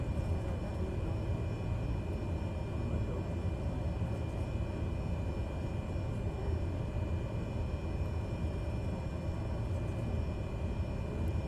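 A Cessna 208B engine runs on the runway in Microsoft Flight Simulator, a steady, loud, unbroken drone that holds evenly throughout with no other sounds standing out.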